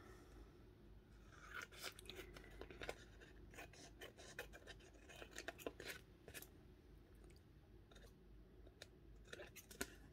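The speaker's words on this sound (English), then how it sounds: "Then we take the scissors instead." Quiet, scratchy snips and rustles of scissors cutting paper, irregular and close, with faint background hiss and no talking.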